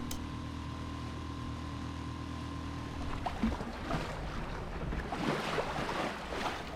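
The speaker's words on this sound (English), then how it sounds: "out for our first ride in our new tender and engine" A Mercury 3.5hp outboard engine drives a 3D tender across open water, a steady droning hum that gives way after a few seconds to rushing water and wind noise as the small boat moves along.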